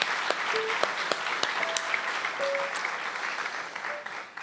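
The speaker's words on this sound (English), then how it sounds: "join me in applauding Tony for leading this amazing new initiative" An audience at an awards ceremony applauds, a fairly soft, steady patter of many hands clapping with a few sharp claps and light voices mixed in, fading toward the end.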